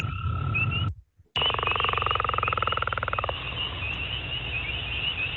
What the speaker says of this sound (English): There's your spring peeper.